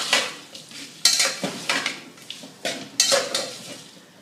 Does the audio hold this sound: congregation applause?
no